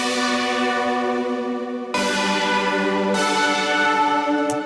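Polycity 84, an 80s synthwave saw-wave synth preset with a bright, video-game feel, plays sustained stacked chords that shift abruptly twice, loud and alone with no voices.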